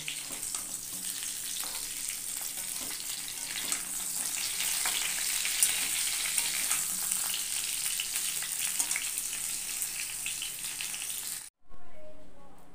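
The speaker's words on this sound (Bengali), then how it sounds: "আর এই চিংড়ি মাছটা ভাজবো" Shrimp fry in a pan with a loud, steady hiss of sizzling oil that runs unbroken for several seconds, then cuts off abruptly near the end.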